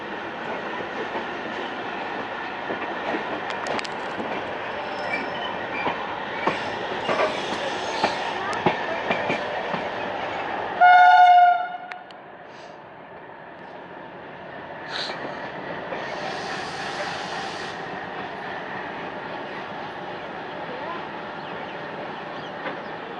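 The Purnagiri Janshatabdi Express running on the Moradabad–Bareilly–Pilibhit line: a continuous rumble and clatter of the train in motion, broken by a short, loud horn blast, then a quieter stretch of rolling noise.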